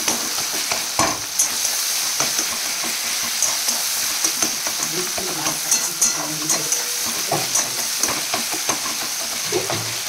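Tomatoes and onions fry steadily in a pan for a Sunday desi chicken dish, a continuous close sizzle with bursts of crackle and occasional stirring scrapes throughout.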